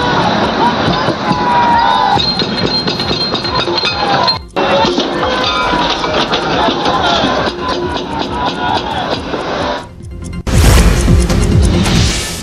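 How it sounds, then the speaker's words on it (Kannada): A crowd cheers and shouts while carrying an MLA on their shoulders during a street protest, with dense roaring voices and clinking throughout, a brief dropout midway and a louder burst near the end. "ಈ ವೇಳೆ ಜನ ಶಾಸಕರನ್ನ ಹೆಗಲ ಮೇಲೆ ಹೊತ್ತು ಜೈಕಾರ ಕೂಗಿದ್ದಾರೆ."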